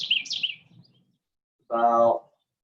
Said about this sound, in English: I hope you guys can hear the birds chirping behind me.